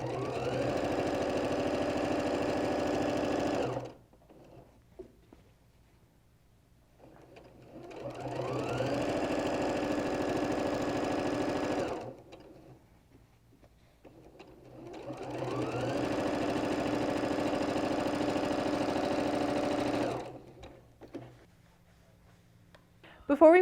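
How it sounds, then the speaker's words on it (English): A sewing machine stitches a quilted, machine-embroidered table runner in three steady, evenly paced bursts of whirring, each a few seconds long, separated by quiet pauses and close to the microphone. "and then I go ahead and sew it."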